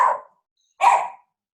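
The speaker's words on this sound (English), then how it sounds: "I am grateful for many things, including a barking dog." A dog barks twice nearby, two loud, separate barks about half a second apart with quiet between them.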